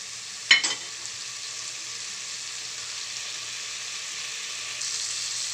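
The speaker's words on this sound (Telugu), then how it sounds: "ఇప్పుడు అల్లం వెల్లుల్లి పేస్ట్ వేసుకోవాలి. అల్లం వెల్లుల్లి పేస్ట్ వేసిన తర్వాత కూడా ఐదు నిమిషాలు మగ్గనివ్వాలి." Ginger garlic paste frying with mutton in a pan, opening with a sharp clatter as it goes in, then a steady, even sizzle that swells slightly louder near the end.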